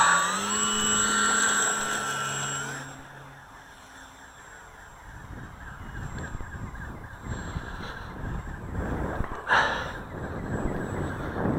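Electric RC airplane with a 4-cell 2650 battery and a big 10x6 propeller, giving a whining buzz whose pitch sweeps and then fades to a distant drone, followed by wind and rustling outdoors.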